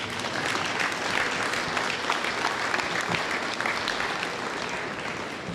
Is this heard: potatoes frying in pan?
no